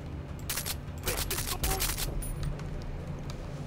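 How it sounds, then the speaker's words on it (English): Muffled, suppressed gunshots from a silenced gun in the shooter Far Cry 3, a run of soft close pops in quick bursts over steady game ambience, with a voice talking. "I decided to get a gun with a silencer."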